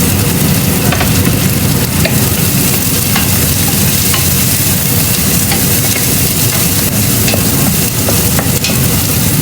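Garlic sautés loudly and close in a pan for native chicken tinola, a dense, continuous sizzle and crackle with no voice.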